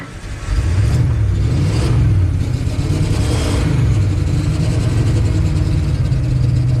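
Rebuilt Ford big-block V8 running rich with the MAP sensor unplugged, a loud close rumbling idle that lopes unevenly throughout with slight revving swells.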